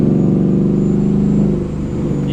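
A supercharged Ford Mustang GT V8 engine revs steadily to about 3,000 rpm with a supercharger whine riding on top, louder than the exhaust, loud and close, easing off slightly near the end.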